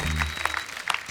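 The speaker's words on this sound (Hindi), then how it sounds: "इनके लिए जोरदार तालियां।" Studio audience applause at a Hindi comedy talk show taping, a short burst of clapping that begins under a fading voice and carries on, moderately loud and even.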